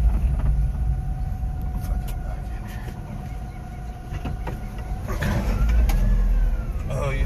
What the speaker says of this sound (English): It might be the spare tire carrier. Or one of the sidewalls. That's rattling in reverse.